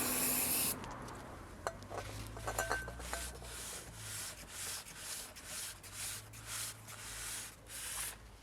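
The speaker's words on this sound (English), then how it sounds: "I've just cleaned off the brake disc with some brake cleaner and a clean piece of kitchen roll" After a brief opening hiss of brake cleaner spray, kitchen roll is rubbed over a motorcycle brake disc in repeated soft swishing strokes, close but fairly quiet.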